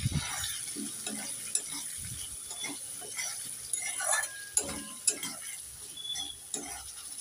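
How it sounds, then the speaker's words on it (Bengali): Potatoes sautéing with chili powder and cumin paste in a pan for cabbage ghonto, a soft sizzle under repeated scraping and stirring strokes, with occasional clinks of the spoon against the pan. "নেড়ে চেড়ে মশলার সাথে আলুটাকে আমি 3 মিনিট ভালো করে কষে নিয়েছি"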